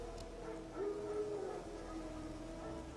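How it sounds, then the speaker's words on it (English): Wild dogs in The Witcher 3 video game let out a faint, drawn-out howl with soft yips and whimpers, distant and low over quiet ambient background, with no talking. "Wild dogs. Yes. More dangerous than wolves."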